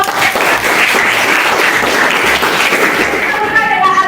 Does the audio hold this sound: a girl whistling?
no